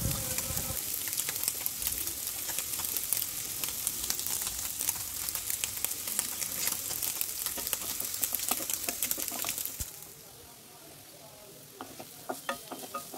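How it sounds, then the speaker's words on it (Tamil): Onions sauté in oil in a pan, a steady close sizzle with busy stirring clicks that drops away after about ten seconds to quieter crackles. "வெங்காயத்தை எண்ணெயில் போட்டு நல்லா வதக்கணும்."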